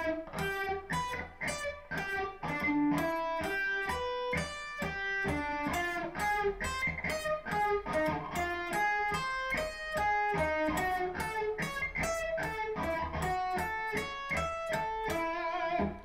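Electric guitar sweep picking played as a demonstration, shorter arpeggio runs then longer ones, a dense continuous stream of rapid plucked notes climbing and falling, loud and steady throughout with no talking.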